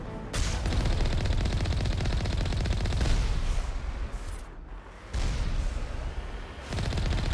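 Sustained, loud automatic gunfire in Mass Effect, dense bursts running almost without pause, with a brief drop in intensity before the firing resumes at full volume.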